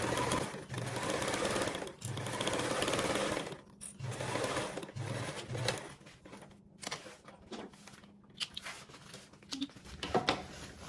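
A home sewing machine stitches a quarter-inch seam on a card-slot panel in bursts of rapid motor-driven whirring, pausing between runs, with small handling clicks and rustles, fairly close and quiet.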